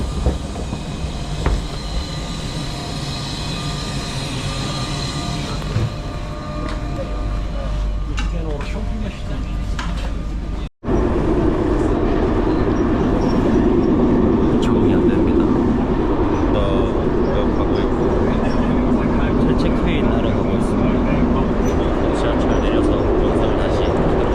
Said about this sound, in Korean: 지하철이 온 것 같은데 빨리 타겠습니다